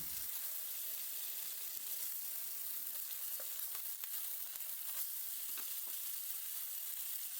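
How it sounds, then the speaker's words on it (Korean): Beef tenderloin sears in a hot pan with a steady, even sizzle and crackle, fairly quiet and close, with no voices over it. "한쪽 면을 충분히 시어링 해주세요."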